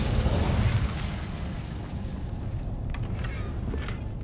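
An Incendio fire spell cast in Hogwarts Legacy, a sustained loud whooshing roar with a heavier burst at the start, steady rumbling flames continuing throughout.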